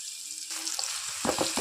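Taro root (cheema dumpala) pieces frying in hot oil in a home kitchen pan, a steady hiss of sizzling oil with a few louder spattering bursts near the end.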